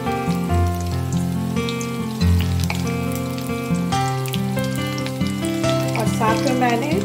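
Pointed gourd (parwal) frying in hot oil, with a loud, steady bubbling sizzle heard near, under background music and without speech.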